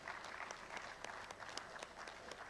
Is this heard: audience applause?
yes